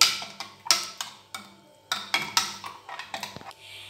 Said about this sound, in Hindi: अब हम इन सब चीज़ों को मिक्स कर लेंगे।